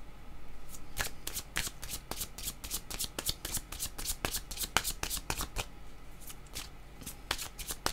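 Playing cards shuffled repeatedly for a card reading, a steady run of crisp riffling snaps and flutters close up, with no talking over them.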